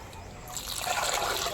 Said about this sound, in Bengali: এবারে জল মাখিয়ে দেব জল মাখাবো